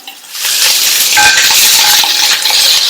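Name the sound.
onion sautéing in a pan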